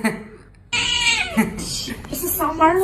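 A cat meows several times, drawn-out and wavering, close to the microphone after a quiet start, with some brief human vocal sounds mixed in.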